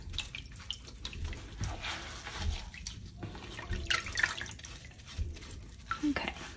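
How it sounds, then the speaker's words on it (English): Running water splashes and drips as Citristrip paint stripper is rinsed off a Yeti tumbler, an uneven close trickle with intermittent spatters and faint knocks. "you're gonna wanna rinse the Citristrip off"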